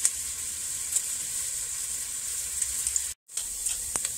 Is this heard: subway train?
no